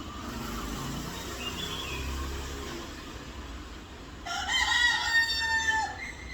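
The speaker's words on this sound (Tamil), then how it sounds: "பொழுது விடிந்துவிட்டது, எழுந்திருங்கள் என்று சேவல் கூவுகிறது." A rooster crows at dawn, one drawn-out cry rising clearly late in the clip over a low ambient hum of the morning surroundings, moderately close, with no talk.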